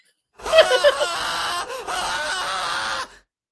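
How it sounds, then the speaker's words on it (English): A male horror scream sound effect plays as one long, loud, anguished wail with a wavering pitch, briefly breaking in the middle before trailing off, close and clear with no talk over it. "Horror scream, male."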